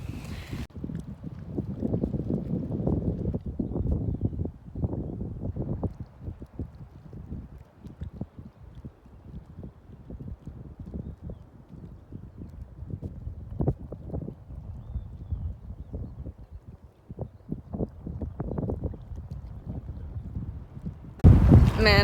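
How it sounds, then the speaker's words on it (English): Wind gusting across a remote Montana mountain lake at dusk, a low, rumbling buffeting roar against the microphone that swells and eases unevenly throughout, with occasional faint knocks and rustles. "I was really hoping that the wind would quit once the sun is gone, but it has not quit at all."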